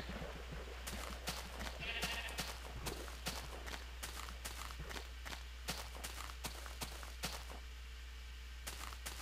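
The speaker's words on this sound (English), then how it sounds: "Now you sheep are just having a field day down there." Sheep bleat repeatedly in the blocky sandbox game Minecraft, version Beta 1.8, short bleats and scattered footstep taps at a moderate distance over a faint steady background hum.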